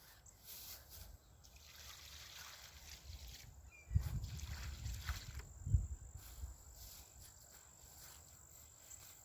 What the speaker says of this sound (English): We're going to put some water on them.